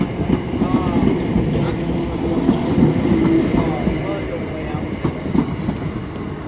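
A Class 90 electric locomotive pulling away from Doncaster station, a loud steady mechanical roar with faint rhythmic wheel clatter on the rails, and people talking over it at times.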